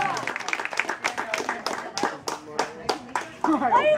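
An audience at a magic show claps in a warm round of applause, dense, close, steady hand claps lasting throughout, with a voice briefly audible near the end.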